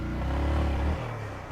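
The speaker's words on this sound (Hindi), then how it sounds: "यहाँ से ब्रेक से पैर उठा, यहाँ से क्लच छूटा, तो बाइक एक बार में पूरी घूम जाएगी।" A motorcycle engine revs hard as the bike spins around in one full turn, a loud sustained roar that rises and then drops in pitch as the throttle eases off.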